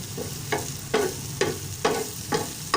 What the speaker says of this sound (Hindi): उसके बाद अंडे को इसके अंदर अच्छी तरह मिक्स कर लेंगे।